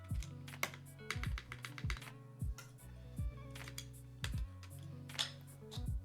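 Keys on a mechanical keyboard fitted with GMK keycaps clack in irregular bursts of close, crisp typing, with steady background music running underneath throughout.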